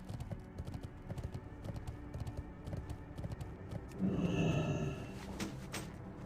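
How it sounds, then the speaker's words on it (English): Horse hooves clip-clopping in the video game World of Warcraft, a quick regular trot of hoofbeats, followed by a brief whinny and snort near the end. "Why am I still on my horse?"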